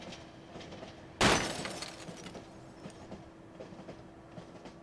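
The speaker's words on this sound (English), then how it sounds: "Simon's moment of contemplation is broken by the sound of glass shattering somewhere on the train." Glass shattering in a sudden loud crash aboard a train in a video game, followed by a decaying tinkle of debris, over a steady rumbling, clattering train-interior ambience with no talk.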